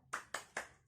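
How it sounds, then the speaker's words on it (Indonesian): Three sharp, evenly spaced claps ring out in a quick rhythm, like a group clapping a short 'tepuk semangat' chant together in a school lesson, heard faintly and in isolation. "yuk kita bersama-sama tepuk semangat"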